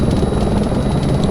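A helicopter flies in a desktop flight simulator game at cruising airspeed, with a loud, continuous rotor drone and a steady rhythmic blade chop, alone without talk.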